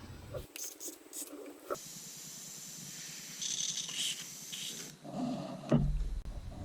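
An airbrush sprays water through to flush out leftover paint, giving short bursts of airy hissing that start and stop, with a brief clatter and a low thump toward the end.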